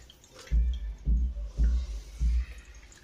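Four slow, heavy drops of water from strained chhena curds for rasmalai fall one after another at an even pace, each a soft low plop against a quiet background.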